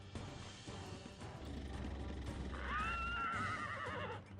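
A horse in the video game Ultima Online neighs once, a clear, rising whinny midway through, over a low rumble and soft game ambience with faint clip-clop, no talking.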